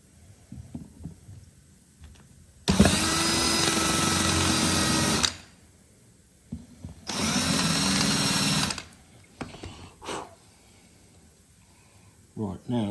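Two sustained bursts of an end mill cutting metal on a Kerry AG lathe, each lasting a couple of seconds, loud and steady with a whining, buzzing tone and quieter shop noises between them.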